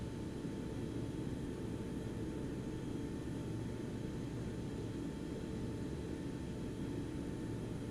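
Boeing 727-100 taxiing toward the runway at East Midlands in the X-Plane 11 flight simulator, a steady low jet engine rumble with faint whine, constant and unbroken throughout with no talking.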